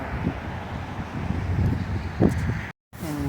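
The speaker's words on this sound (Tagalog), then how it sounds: "Mahangin na dito, tingnan yung mga puno nagsasaya." Steady wind rushes and gusts through park trees, rumbling against the microphone with a faint rustle, briefly cutting out near the end.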